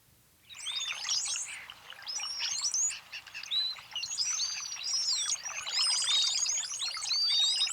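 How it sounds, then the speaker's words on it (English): A large flock of cowbirds fills the air with overlapping bubbly songs, chatter and thin high whistles, a dense continuous cacophony close by after a brief quiet start. "Occasionally, cowbirds gather in large flocks, and their combined songs and chatters can create quite a cacophony."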